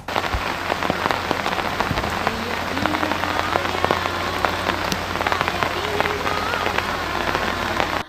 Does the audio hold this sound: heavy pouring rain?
yes